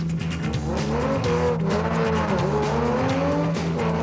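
Production race vehicles at the Adenco 400 Friday prologue, a 66-kilometre timed run setting start positions, roar past with loud, rising and falling engine revs that stay dense and near throughout.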